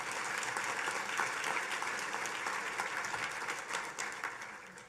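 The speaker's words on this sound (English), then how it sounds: "Now that's something to applaud to." Sustained applause from a gala audience at the 2016 HEAF Gala, dense and even clapping filling the room for about five seconds with no voices over it.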